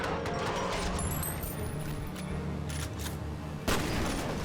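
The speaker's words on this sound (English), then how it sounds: "Okay, yeah, that's a grenade." A grenade goes off in the F.E.A.R. Extraction Point shooter, a sudden loud burst near the end of the clip. Before it comes a dense rattle of gunfire and clattering mechanical noise.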